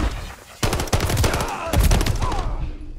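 Rapid automatic gunfire from Call of Duty: Modern Warfare 3 on Veteran difficulty, loud sustained bursts of shots with a brief pause between two volleys, trailing into fainter battle noise.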